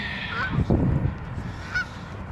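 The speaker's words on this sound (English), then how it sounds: "Hey, Mr. Goose." A goose honks on a riverside path in Windsor, Ontario, Canada: a couple of nasal calls near the start and another single honk later, with faint shuffling and outdoor ambience between.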